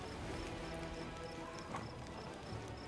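Horse hooves clip-clop at a steady trot under a busy, hissy soundscape in Pathfinder: Wrath of the Righteous, fairly quiet and continuous.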